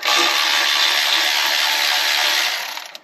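A power tool, likely an impact or air ratchet, runs continuously at high pitch for about two and a half seconds while removing timing cover bolts on a 1983 Volvo C30, loud and close before winding down.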